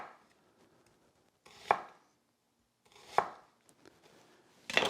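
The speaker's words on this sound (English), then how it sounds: "And now you simply slice through for whatever size you're working with" A sharp knife slices through an onion on a cutting board, making three distinct crisp chopping strokes spaced a second or so apart, close and clear against near silence.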